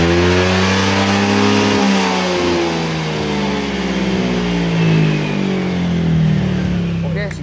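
Honda PCX 160 scooter fitted with a Juken 5+ racing ECU, its engine revved hard and held high in a loud, close, continuous drone with rising and falling pitch throughout.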